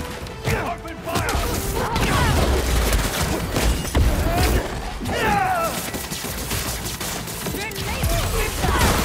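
Rapid bursts of gunfire fill a combat scene in the video game Marvel's Spider-Man 2, dense and continuous with crashes and impacts mixed in.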